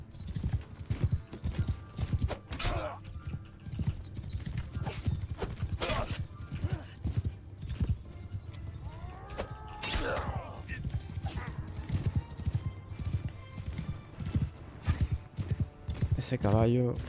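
A horse's hooves clop rapidly and continuously through a battle in Mount & Blade II: Bannerlord, with a few short neighs rising over the pounding and someone speaking throughout.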